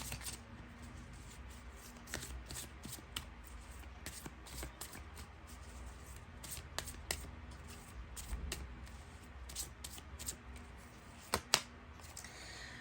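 A small deck of tarot cards being shuffled by hand, a long run of quick, crisp riffling flicks and taps at close range, fairly quiet, no talking.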